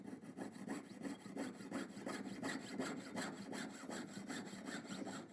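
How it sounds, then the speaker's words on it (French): Steady back-and-forth strokes of a Bockfield saw blade cutting through material held in a parallel clamp, an even rasping rhythm of roughly three strokes per second, close and moderately quiet. "les lames de scie Bockfield, ça passe comme dans du beurre"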